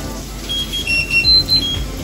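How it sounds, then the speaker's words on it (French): A kitchen timer rings in short, high electronic beeps during cooking of salted okok, repeating in a few quick bursts over a steady low background hum. "Vous entendez sonner le minuteur."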